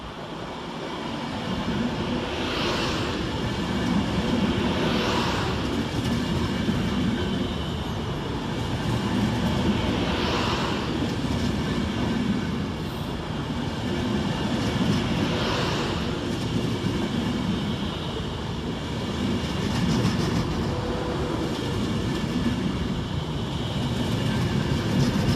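An Avanti West Coast Class 390 train runs through Aston station on a diverted London Euston to Liverpool Lime Street service, a steady rumbling roar with rhythmic wheel clatter repeating every few seconds as the carriages roll past.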